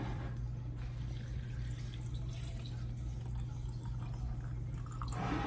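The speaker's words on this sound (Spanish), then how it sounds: "Le vamos a poner agua." Water poured into a cooking pot for liver consommé, a steady close splashing stream that runs without pause from start to finish, with no talking.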